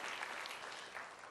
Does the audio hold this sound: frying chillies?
no